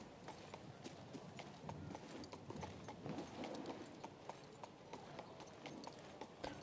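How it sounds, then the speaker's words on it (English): Horse hooves gallop in the video game King's Bounty II, a steady fast clip-clop rhythm held at moderate loudness under faint background ambience. "I want to get the horsey because it is a little bit faster."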